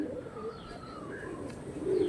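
Lalshira pigeons, an original breed pair, coo softly in a steady low murmur over a faint background hum, with a brief higher bird call mixed in near the end.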